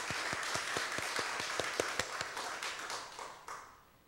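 A church congregation claps together in a faint, steady round of applause, a rhythmic beat running through it that gradually fades out.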